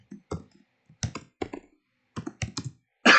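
Typing on a computer keyboard with long fingernails: close, irregular clicks in short clustered bursts separated by brief pauses, with no talking.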